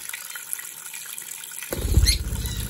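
Water is splashed over baby lovebirds for a bath: quiet at first, then a sudden loud rush of running, splashing water, with faint high chirps mixed in.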